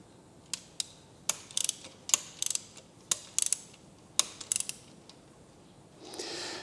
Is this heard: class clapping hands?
no